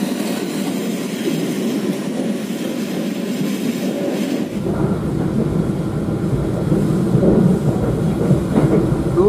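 Purwojaya passenger train running on rails through curving track, a steady close rumble that grows louder and rougher partway through, with faint rhythmic clatter and no talking.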